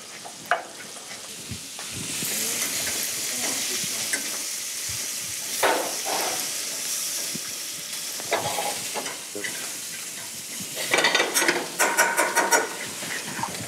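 Trumpet mushrooms and shallots sizzle and fry in a pan while being stirred, a steady close hiss broken by scraping stirring strokes and busier crackling bursts toward the end.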